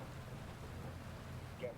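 Steady rain hiss in the rally game Dirt Rally 2.0, a low broadband wash of falling rain and road noise, moderately quiet and continuous throughout, with a faint brief tone near the end.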